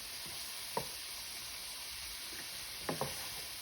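Seasoned shrimp cooking in a pan on medium-high heat: a faint, even sizzle throughout, broken by a few light knocks and clicks of a utensil against the pan.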